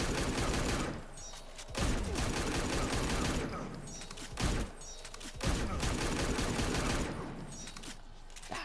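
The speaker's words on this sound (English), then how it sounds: "if he goes like, you know, rifle shot into rifle shot" Deadshot's rifle shots in a fighting game matchup against Raiden, heard as bursts of dense rapid gunfire broken by brief gaps, loud and continuous over game sound, with faint talk underneath.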